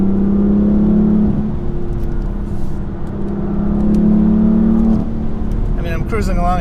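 BMW F80 M3 cruising fast on a narrow backcountry road, a loud steady engine drone with road and wind roar heard from inside the car, easing and swelling slightly over time.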